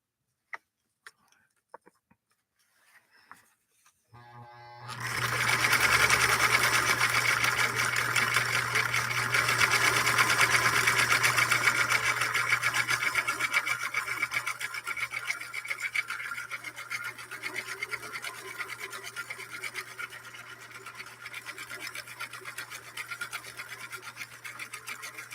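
A 1958 Husqvarna Viking Type 21 sewing machine starts after a few soft clicks and runs steadily for about twenty seconds, a continuous close whirring stitch with a low motor hum that eases slightly toward the end.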